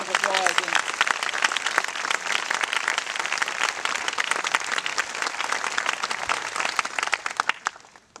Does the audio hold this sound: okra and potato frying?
no